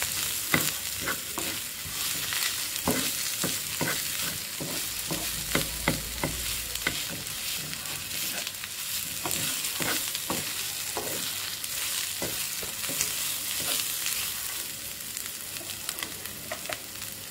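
Dried red chillies and grated coconut frying in a pan, a steady sizzle broken by repeated scraping stirs in an uneven rhythm, close and clear with no voices.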